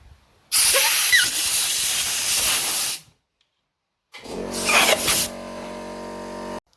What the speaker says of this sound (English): next you have to use pressurized air to get the old grip away